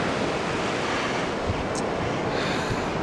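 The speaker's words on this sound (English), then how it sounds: "we're at the beach, and as you can see, obviously" Ocean waves and steady wind at a beach, a continuous loud roar of surf with heavy wind buffeting the microphone and no talking.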